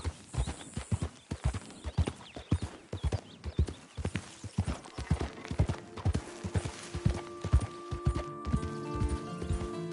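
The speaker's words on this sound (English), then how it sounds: "what's that horse doing in here?" Steady clip-clop of video game horse hooves plodding along at an even walking pace, fairly close and distinct, with a soft background tone building toward the end.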